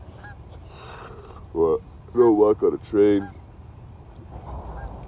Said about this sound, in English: Everywhere I go, fucking geese.